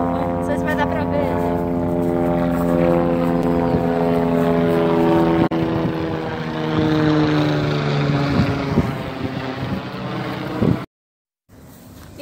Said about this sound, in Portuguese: Um helicóptero!